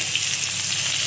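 Vegetable stems and brinjal fry in hot oil, giving a loud, steady, close sizzle that holds evenly throughout.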